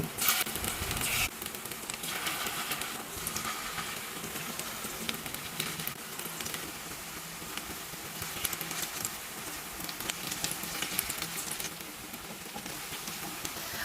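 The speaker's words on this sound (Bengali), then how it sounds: "এবার আমি মোচাটাকে গোল গোল করে বড়ার আকারে ভেজে নেব।" Banana flower fritters frying in mustard oil produce a faint, steady sizzle and crackle throughout, with occasional small bursts of spattering.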